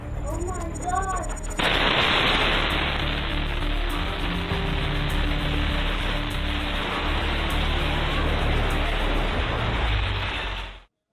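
Explosions in Beirut captured on amateur footage: a sustained, heavily distorted roar of blast noise saturating the recording for about nine seconds, with a brief lighter passage of voices and noise before it begins.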